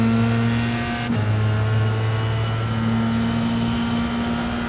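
Formula 3 race car held at full throttle around Phillip Island, a loud steady high engine drone with a brief dip and pitch shift as the gear changes, then continuing flat out.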